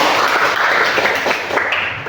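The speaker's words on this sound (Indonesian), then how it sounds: "Kita beri tepuk tangan." Classroom applause follows a student discussion presentation, a steady wash of many hands clapping at close range for about two seconds, tapering slightly at the end.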